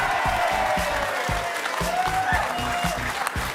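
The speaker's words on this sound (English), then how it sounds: "Keep the applause going, Fletch Hindy and" A television studio audience at a late-night show claps in steady, dense applause, close and loud, filling the whole stretch.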